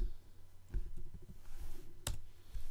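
Two sharp computer keyboard clicks for a Ctrl+S save during web page coding, faint and isolated in a quiet room, spaced over a second apart.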